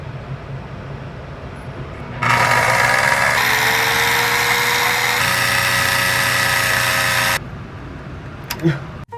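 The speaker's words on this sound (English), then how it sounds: "These next clips show me actually sewing on the boning to the net crinoline" A sewing machine runs for about five seconds, a loud close buzzing whir as boning is stitched onto net crinoline, with quiet room noise and a few clicks before and after.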